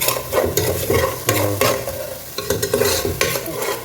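Oil is stirred in a cooking pan for Chettinad beef gravy: a spoon makes close, repeated scraping strokes in a steady rhythm over a light sizzle, and no one speaks.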